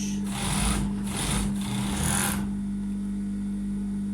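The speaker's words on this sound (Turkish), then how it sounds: "Şurayı yeniden dikeceğim." A sewing machine stitches the collar seam of a knit sweater in a few quick, loud bursts, then drops to a low steady hum.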